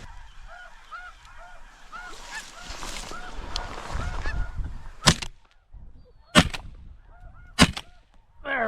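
Snow geese honk in a steady overlapping chorus from a flock during a blizzard hunt in North Dakota, followed by three loud, sharp shotgun blasts spaced a second or two apart.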